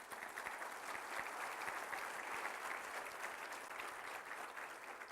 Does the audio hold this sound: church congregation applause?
yes